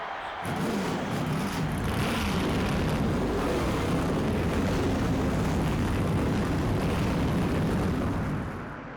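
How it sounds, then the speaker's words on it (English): Stock car engines starting and roaring together in NASCAR Thunder 2004 at Bristol Motor Speedway, a loud, steady, dense rumble that swells in within the first second and holds throughout with no talk. "Gentlemen, start your engines."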